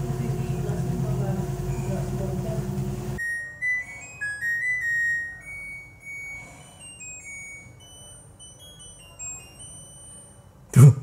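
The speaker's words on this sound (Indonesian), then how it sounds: "Tuh, bunyinya gitu kalau selesai." An LG FV1209S4M front-loading washing machine finishes its cycle: the running hum cuts off and a short, bright tune of electronic beeps plays alone. It ends with a single soft thump.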